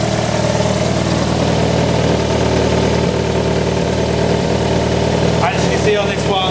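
A 1991 Toyota Carina engine idles steadily and close by, a constant low rumble with faint rattles and a brief clatter near the end.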